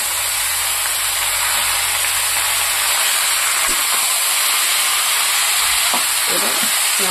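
Marinated meat goes into a hot pan of fried potatoes, setting off a loud, continuous sizzle and hiss, with a few soft clinks and scrapes of stirring toward the end.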